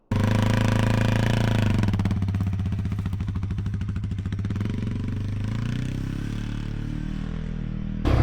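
A Yamaha TW200 motorcycle engine revs up nearby, then settles into a loud, rapid, pulsing chug as it pulls away, a steady throbbing that stays strong until the end.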